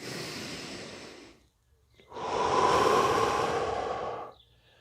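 Two long, deep breaths close to the microphone: a steady airy inhale, a brief pause, then a louder, fuller exhale lasting about two seconds, with no talking.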